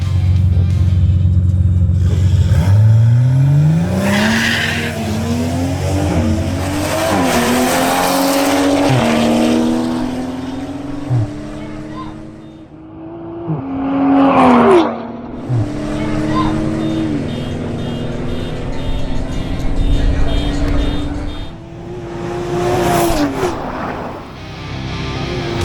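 A BMW M240i xDrive launches on a drag race run, its engine revving hard and climbing through repeated gear changes with rising pitch, loud and close, while an announcer talks over the car.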